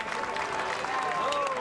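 A crowd cheers and applauds at the Giro d'Italia start in Genoa, a steady wash of clapping and cheering under a commentator's voice.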